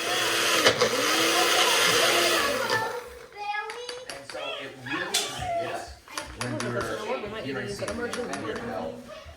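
A kitchen blender whirs loudly while blending ingredients for a family meal prep, a steady motor roar for about three seconds, then clattering and handling with voices talking, a child among them.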